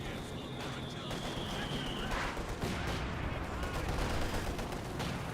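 Maxim machine gun fire in the Company of Heroes 2 strategy game, rapid rattling bursts heard fairly faint and distant under ongoing battle noise.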